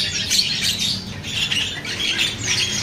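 Galatik birds at a bird market give busy, high-pitched chirps and squawks, a dense continuous chatter from several birds close by.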